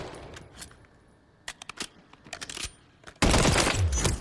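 Bren 2 BR rifle with a 20-round magazine in Call of Duty Modern Warfare III: a few faint mechanical clicks, then a loud, sustained burst of rapid automatic fire at the end.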